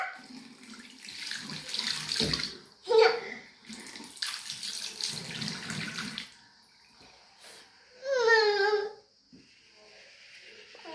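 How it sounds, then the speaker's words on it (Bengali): Water runs from a bathroom tap in bursts of steady splashing rush, stopping and starting, while a voice and other voices rise over it. "ভদ্র আবারও জল ছাড়তেছে, জলের বিল আসে না?"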